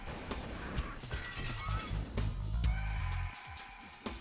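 Geese in the Spyro Year of the Dragon video game honk in a loose run of loud calls over game music and ambient effects, with no talk over them.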